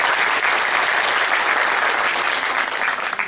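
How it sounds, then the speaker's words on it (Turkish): At an awareness training session, an audience claps for themselves in loud, dense, sustained applause that stays even throughout and eases slightly at the very end. "Lütfen kendinizi yürek dolusu bir alkışlayın arkadaşlar"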